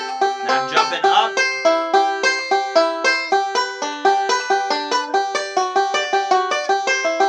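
Banjo picked in a steady, even run of bright plucked notes that step through a short pattern and leap up to higher strings, played alone and close with a clean ringing attack on each note.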